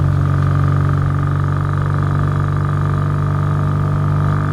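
Classic BSA A10 motorcycle on the move, its old exhaust giving a loud, steady, deep burble that stays close and even throughout, with no talk over it.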